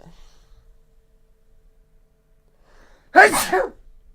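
After near silence, a single loud sneeze bursts out close by.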